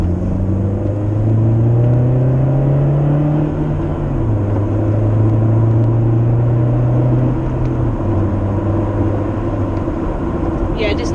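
A Toyota Avensis SR with a custom stainless steel exhaust and a 3.5 inch tip rumbles close by with a deep, steady drone that rises and settles as the engine is held and eased, with muffled voices underneath.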